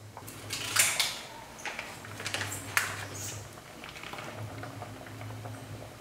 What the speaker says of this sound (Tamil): இது 1 கொதி வரட்டும்.